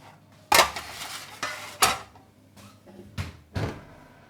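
Bread cubes on a metal tray are pulled from an oven, with several sharp metallic clanks and scrapes of the pan against the rack, spaced irregularly and close by, no talking.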